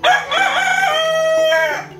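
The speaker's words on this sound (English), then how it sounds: "That's another rooster." A farm rooster crowing once, loud and close, a full drawn-out call that holds for nearly two seconds before cutting off.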